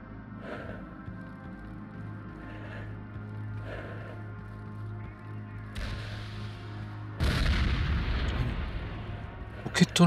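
Grenade launcher fire in the game S.T.A.L.K.E.R. sounds as distant, periodic booms over a low ambient hum, followed by a sudden, louder burst of explosive rumble near the end.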